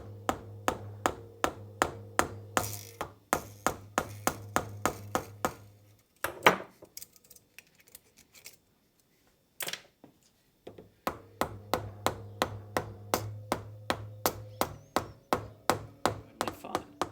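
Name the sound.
hammering a bushing through a hose clamp on Land Rover steering relay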